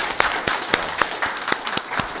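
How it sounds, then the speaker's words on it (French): Steady rhythmic clapping, evenly spaced claps repeating about every quarter second, sounding like a small crowd applauding in time during a radio broadcast in Côte d'Ivoire. "On applaudit très fort."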